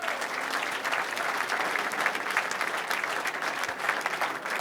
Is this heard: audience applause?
yes